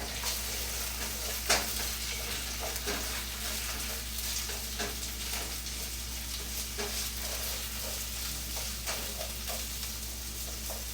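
Food sizzling and frying steadily in a pan during weekend meal prep, with soft scraping and clinks of a utensil as it is stirred, a close, continuous crackle with no talking.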